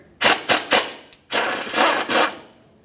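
A wrench works loose the forward 13mm bracket bolt on a 1994-2002 Dodge Ram 2500 during an oil pan job, giving short rasping ratchet bursts: three quick strokes, a pause, then longer grinding runs, close by.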